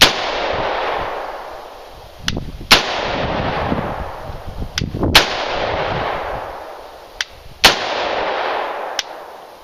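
Four sharp, loud rifle shots, one per trigger squeeze, come at roughly even intervals a few seconds apart, each followed by a long rolling echo that decays before the next.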